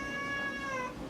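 A single drawn-out cat meow, clear and close, rising then falling over about a second with no talking.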